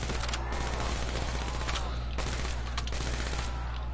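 Rapid gunfire in the video game Call of Duty Black Ops III, dense bursts of automatic shots with sharp cracks layered over a steady low hum, loud and continuous.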